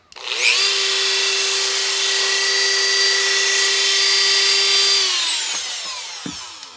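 A Hart rotary tool spins up quickly to its highest speed and holds a loud, steady, high-pitched whine for about four and a half seconds, then winds down, with a faint knock at the end.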